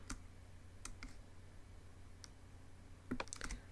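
Sparse keyboard and mouse clicks while drawing a shape in a layout program: a sharp click near the start, a pair near one second, a lone tick midway, then a quick cluster of clicks near the end, all close and crisp over quiet room hum.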